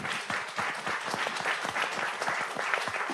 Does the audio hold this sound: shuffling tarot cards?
no